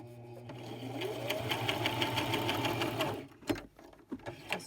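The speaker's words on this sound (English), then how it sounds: "I'm going to just make sure that my sewing machine is working okay." A sewing machine whirs steadily for about three seconds with a rapid mechanical stitching rhythm, then stops, followed by a few clicks and knocks.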